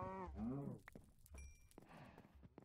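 Cows mooing in the video game Minecraft, a few moos near the start followed by shorter game noises and a sustained tone, with speech-like tagging but no words spoken.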